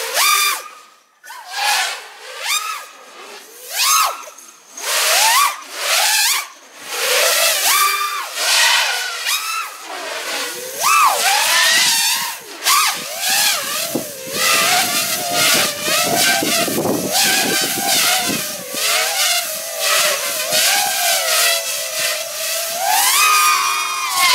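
An FPV racing drone on Gemfan 5149.9 Hurricane props whines through repeated full-throttle bursts, its high-pitched motors sweeping up and down, loud and close throughout, with a brief quiet dip early on.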